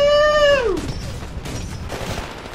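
Nuke explosion in the video game Titanfall, a loud descending whine that drops away into a rumbling burst, followed by scattered softer crackles and booms.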